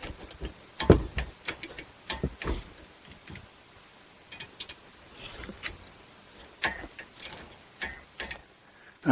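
A wrench ratchets down brake caliper bolts on a 2010-2017 Chevy Equinox, giving close, sharp clicks in irregular bursts with quiet gaps between them.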